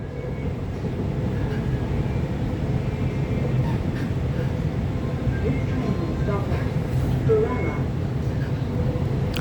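A four-car Sydney Trains M set on the T4/T6 lines pulls away from a station, a steady broadband rumble of wheels and motors holding at even loudness throughout, with a voice speaking faintly beneath it.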